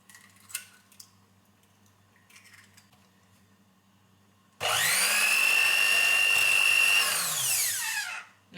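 An electric mixer starts abruptly and whirs steadily at a high, loud pitch as it mixes cupcake batter, then winds down after a few seconds, following faint kitchen clinks.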